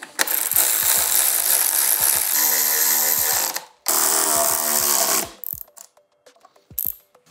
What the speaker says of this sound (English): We got our 10 millimeter socket. Go ahead and tighten them up.